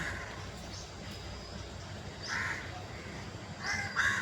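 A crow caws several times, a couple of single calls then a burst near the end, over a faint outdoor background.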